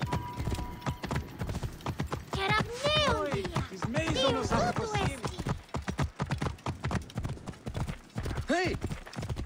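Hooves of the horse Pegasus clopping in Assassin's Creed Origins, a steady run of hoofbeats under ongoing voices, with whinny-like calls rising midway and again near the end.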